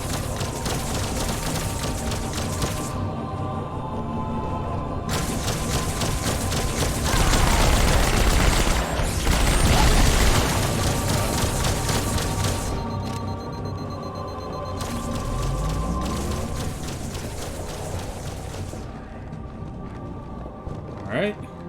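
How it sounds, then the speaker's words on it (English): Rapid bursts of gunfire from Covenant dropships in Halo, hammering in long volleys that come and go across the battle, with someone talking over the shooting throughout. "Dropships coming in, shooting at us."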